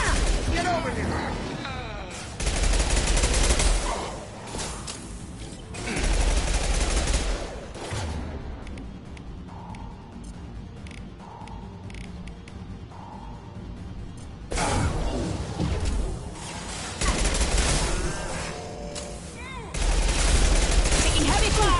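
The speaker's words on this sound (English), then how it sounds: "Taking heavy fire!" Heavy gunfire in Mass Effect Legendary Edition comes in long, loud barrages of automatic fire and impacts, broken by calmer stretches. Combat voices shout over the shooting.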